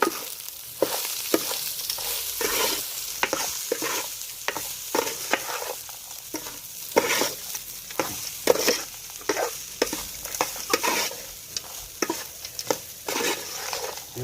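Chitrannam rice being stirred in a frying pan, a steady run of scraping strokes over a soft continuous sizzle, close and fairly loud, with no talking.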